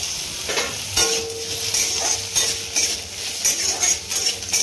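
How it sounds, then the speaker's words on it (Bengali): Chopped potatoes fry in a hot pan with a soft, continuous sizzle, while a utensil stirs them with scattered scrapes and clinks against the pan, heard close at moderate volume. "তো আলুটা আমি ভেজে নিচ্ছি বন্ধুরা"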